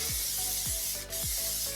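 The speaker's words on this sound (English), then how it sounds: "I'm just going to use hairspray" Hairspray hisses steadily from an aerosol can onto hair, a continuous close spray with a few faint rhythmic sweeps underneath and a brief dip near the middle.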